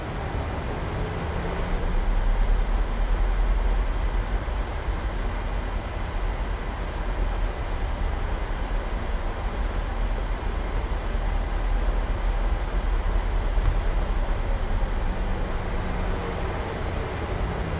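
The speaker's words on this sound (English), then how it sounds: "Gonna have a lot of thrust to get around these turns." Ryanair 737-800 jet engines in a flight simulator, a steady broadband roar and hum of taxi thrust holding at an even level throughout, with a faint high whine above and no talking.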